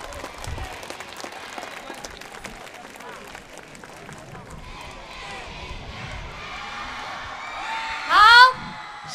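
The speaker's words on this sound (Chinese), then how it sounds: "掌声欢迎。" An audience at a large outdoor exercise-dance gathering applauds to welcome a coach, light scattered clapping under ongoing talk and music, ending in a brief loud burst of cheering near the close.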